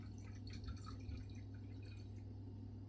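Water added to a homemade natural juice, a faint trickle and a few soft drips into a container over a constant low hum, close but quiet and without talk.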